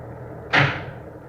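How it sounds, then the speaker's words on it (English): A car door swings shut with a single sharp, solid thud that decays quickly in a quiet cabin. "All right, now close your door."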